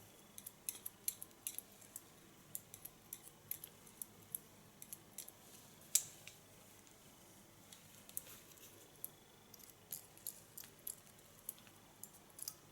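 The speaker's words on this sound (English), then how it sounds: "This I lift up with my scissor, catch it with my comb, and in freehand style" Faint, quiet snips of scissors cutting hair freehand at a salon, small sharp clicks scattered irregularly over a hushed background with no talking.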